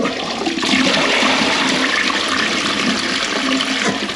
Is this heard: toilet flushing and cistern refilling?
yes